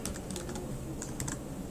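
Keystrokes on a computer keyboard while a quiz question is entered into e-learning authoring software, a quick irregular patter of soft clicks heard up close with a steady hum behind them.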